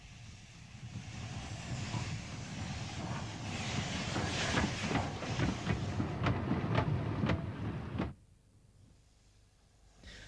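An H-class steam tank locomotive runs with its train through Kent countryside, a steady loud rumble with rhythmic chuffing and clanking that ends abruptly into quieter ambience near the end.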